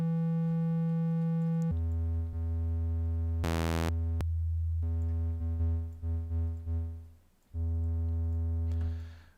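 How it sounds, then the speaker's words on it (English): A synthwave arpeggiator patch built in Cubase Pro 13 plays sustained, bright synthesizer tones, with a short rapid run of stepped notes in the middle and brief gaps between held phrases, loud and clear with no talking. "I'm going to use the built-in arpeggiator, I think."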